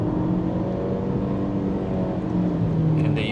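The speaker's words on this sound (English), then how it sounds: "Full pedal to the metal, and there's that engine, definitely louder now." An MG ZS Hybrid+ engine pulls under full throttle, a steady droning hum heard from inside the cabin that gradually builds, with a few faint clicks near the end.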